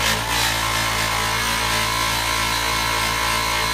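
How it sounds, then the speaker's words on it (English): A power polisher works out sandpaper scratch lines on a workpiece that is not clamped to the bench, a loud, constant, broadband whirring drone that holds steady throughout. "what I'm doing right now is I'm polishing out all of those lines that I made with the sandpaper"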